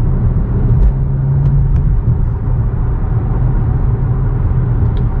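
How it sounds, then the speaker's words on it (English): Inside a 2016 BMW M235i with an inline six-cylinder engine and six-speed gearbox, a steady, heavy, low engine and road rumble fills the cabin for several seconds. "The inline six cylinder never gets old."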